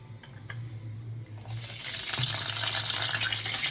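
Garlic dropped into hot oil in a pan for suka vada, a sudden loud sizzle and crackle swelling after a quiet start and holding steady and close.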